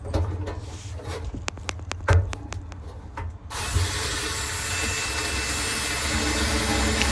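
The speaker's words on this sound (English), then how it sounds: "they just have 2 screws, Phillips head screws that you remove, one on the left and one on the right" Phillips head screws are backed out of the lint filter housing on a Kenmore Elite dryer: a run of sharp ratcheting clicks and taps from a screwdriver, close and fairly loud, followed by a steady whirring hiss.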